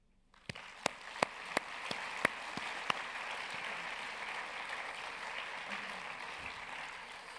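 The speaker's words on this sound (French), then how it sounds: "Bitte applaudieren Sie unserem Traumteam, dem FIF-Team." Audience at the FIFF 2025 film festival opening ceremony breaks into applause, a few loud individual claps at first swelling into steady, dense clapping from a large crowd that fades slightly toward the end.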